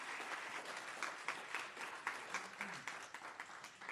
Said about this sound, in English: Please join me in giving another round of applause to the Houston